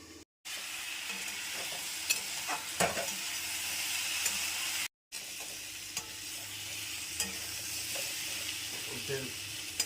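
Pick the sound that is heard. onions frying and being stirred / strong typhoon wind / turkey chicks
onions frying and being stirred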